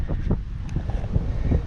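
Strong gusty wind at a lookout point in the Királyerdő mountains, buffeting the microphone with loud low rumbling throughout, no voices.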